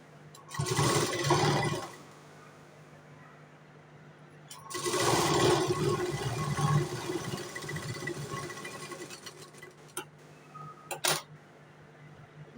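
A sewing machine stitching the inside seam of a katori blouse in two bursts: a short whir of about a second, then a longer run of about four seconds, followed by a few sharp clicks, close up.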